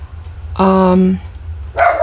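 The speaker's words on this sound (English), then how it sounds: "I know that's so alarming when you have the puppy in the background barking." A puppy barks indoors nearby, one sustained yelping bark followed by a second sharp bark after a pause, loud and close.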